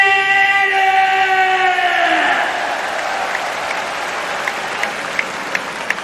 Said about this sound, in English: Let's let the people back home get a feel for the introductions, the crowd reaction here at Saitama Super Arena